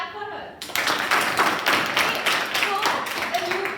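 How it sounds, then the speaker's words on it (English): Students clapping for a classmate in a biology classroom, starting abruptly after a brief voice and continuing as a lively, uneven round of claps with some voices underneath. "Clap for her."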